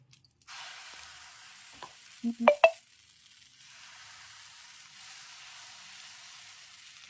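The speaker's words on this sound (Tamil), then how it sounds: "இப்போ நான் தோசை மாவு ஊற்ற போகிறேன்" Dosa batter made from idli batter ground in a mixer hits a hot griddle and sizzles with a faint, steady hiss. A few short clinks and scrapes come near the start, and no one speaks.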